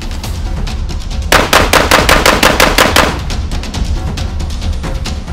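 A Beretta 1301 Comp Pro shotgun fires rapidly at a steel target outdoors, producing a loud, fast burst of close shots that blur together for about two seconds.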